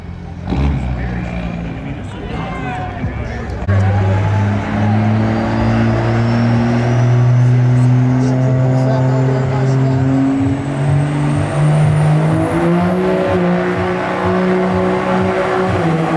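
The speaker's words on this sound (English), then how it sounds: "That wastegate opens, that turbo kicks in, that's it." A turbocharged car revs hard and holds a loud, rising engine note for most of the run as the turbo spools and kicks in, with whooshing boost noise and people cheering over it.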